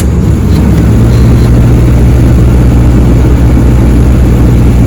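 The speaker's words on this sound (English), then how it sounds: "Once the generator has started, give it a few seconds to get up to its idle speed." A generator engine for a truck tipper settles into a steady idle, a loud continuous low rumble with a constant hum, close by and alone with no talk.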